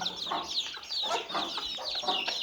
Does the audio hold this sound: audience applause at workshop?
no